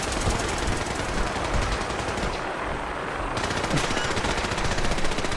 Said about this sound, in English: That's a Gatling laser.